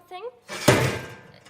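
A door handled in a horror radio drama, with a single heavy thunk as it is pushed or pulled, followed by a rattling, resonant tail. A short voiced sound comes just before it.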